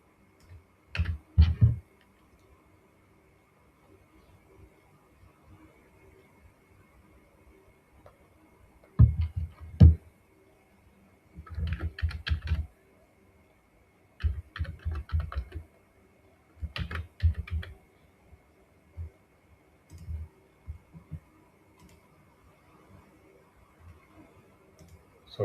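A username and password are typed on a computer keyboard in short, separate bursts of quick key clicks, with quiet pauses between them.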